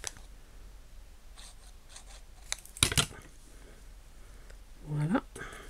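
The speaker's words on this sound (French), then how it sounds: "je vais la couper en deux en fait" A paper label snipped in two with scissors: a couple of quiet, close crisp cuts amid faint rustling and handling of paper, ending in a short scrape.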